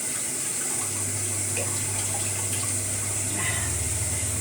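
Tap water runs steadily over mushrooms being washed at a sink, a continuous close splashing stream with a low hum underneath.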